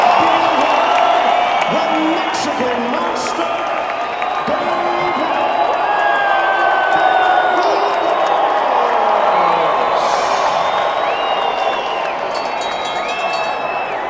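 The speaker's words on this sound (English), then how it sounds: "Here's the crowd, guys." Boxing arena crowd after a cruiserweight title fight, a broad roar of cheering and whoops with scattered clapping, while someone talks over it nearby.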